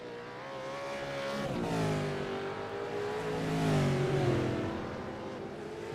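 A V8 race car at Le Mans passes through, its engine a steady loud harmonic roar that swells and shifts pitch as it goes by and revs, with no talk over it.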